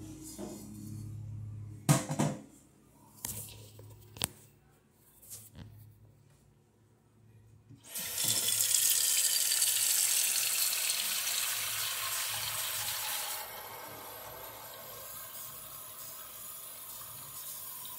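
Water gushes from a tap after several seconds of clattering, loud and steady, then eases slightly while continuing to run.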